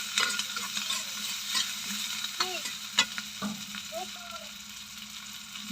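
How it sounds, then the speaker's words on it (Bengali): Chillies, onion and garlic stir-fried in a pan, a steady sizzle broken by repeated scraping and clinking strokes of a spatula, close and fairly loud, with no talking. "মরিচ, পেঁয়াজ, রসুন দিয়ে আমি সুন্দর করে নেড়ে চেড়ে নেব।"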